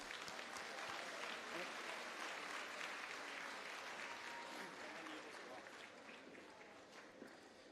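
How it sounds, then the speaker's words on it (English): Festival crowd at an outdoor entertainment stage applauds a hula halau, a long, steady wash of clapping that gradually softens toward the end. "Mahalo, another round of applause."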